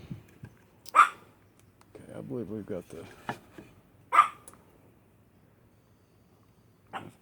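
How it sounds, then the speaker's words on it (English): Dogs bark twice in the distance, separated by a few seconds, with a third faint bark near the end, while someone talks nearby during work on a cracked Savage Arms Model 87A .22 rifle stock. "dogs are barking."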